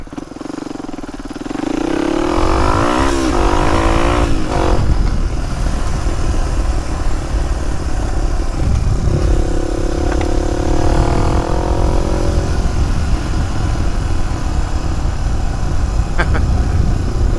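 A motocross motorcycle starts off and rides away, its engine revving loudly in rising and falling pitch sweeps, then settling into a steady drone that sounds a little farther off, with faint voices in the background.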